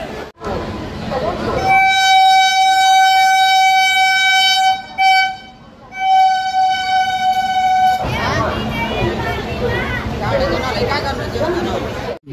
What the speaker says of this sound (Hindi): सामने दुर्ग एक्सप्रेस का यहाँ से डिपार्चर हो रहा है, प्लेटफॉर्म संख्या 1 से इसका डिपार्चर हो रहा है